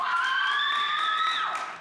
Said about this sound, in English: let's give the worship team a round of applause again